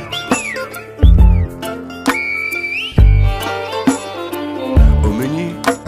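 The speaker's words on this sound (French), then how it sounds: "un guanché siffle pour s'inviter à dîner" A Guanche on La Gomera in the Canary Islands whistles in the island's whistled language between mountains, with several loud, sharp gliding whistles rising and falling over about six seconds, set against music.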